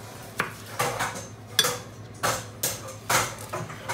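A knife cuts vegetables into fry-shaped sticks, giving a series of sharp chops and board knocks in an irregular rhythm, close up, with quieter sliding sounds between strokes.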